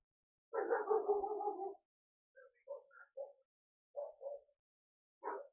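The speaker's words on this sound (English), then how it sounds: "Dogs are outside. They're barking." Several dogs barking outdoors at a distance, starting with a drawn-out howl-like bark and then short scattered barks in loose bursts, faint and alone with no talk.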